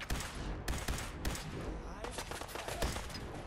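Rapid gunfire in a Fallout 4 fight, a dense run of sharp, loud shots in quick bursts, with battle noise filling the gaps.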